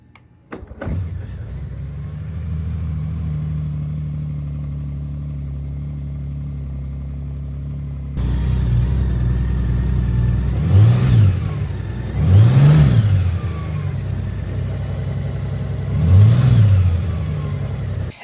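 Honda Goldwing 50th Anniversary touring motorcycle engine cranks and catches, settles into a smooth, close idle, then rises in three short throttle blips before dropping back each time.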